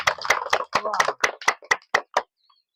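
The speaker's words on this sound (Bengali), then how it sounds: "সবাই হাততালি।" A group of people clap their hands together in a quick, fairly loud burst of about a dozen claps at a steady pace that stops abruptly, during a bottle-matching game.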